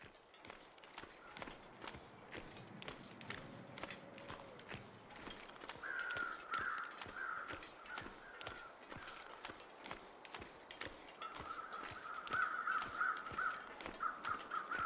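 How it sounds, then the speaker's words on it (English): Crows caw in a foggy wilderness in The Long Dark survival game, their harsh repeated calls coming in two clusters over steady crunching footsteps through snow and ice. "So those are normal crows"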